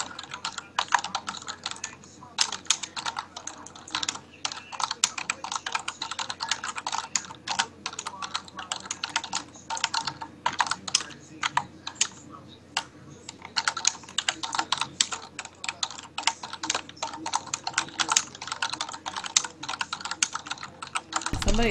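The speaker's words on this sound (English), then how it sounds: "Somebody is typing up a storm." Rapid, continuous typing on a computer keyboard, dense clattering keystrokes close to the mic with brief pauses, over a low steady background hum.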